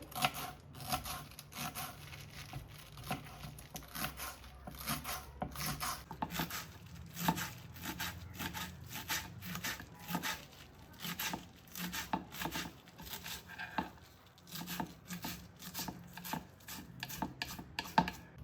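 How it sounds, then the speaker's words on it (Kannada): Basale (Malabar spinach) leaves are chopped with a knife in a quick, steady run of light, crisp cuts, fairly faint and close throughout. "ಬಸಳೆ ಸೊಪ್ಪು ಕಟ್ ಮಾಡ್ಕೊಳ್ಳೋಣ"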